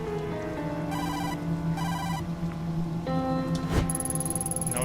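Kazuki's phone ringing from inside a locked dumpster, repeated electronic ringtone bursts over steady rain, muffled and mid-distance, with a brief sharp clatter near the end.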